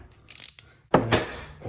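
A ratchet wrench turning out a bolt on the front fender of a Toyota Corolla, with quick clicking bursts followed by a louder, longer run of ratcheting nearby.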